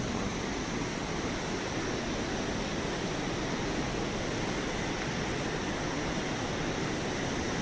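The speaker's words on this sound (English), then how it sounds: "This river is Pushpavati, which is flowing inside the park." Pushpavati river flowing through the Valley of Flowers park on a September trek, a steady broadband rush of water that fills the whole clip at a moderate, distant level with no voices.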